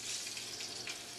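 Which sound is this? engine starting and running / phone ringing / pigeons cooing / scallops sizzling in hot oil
scallops sizzling in hot oil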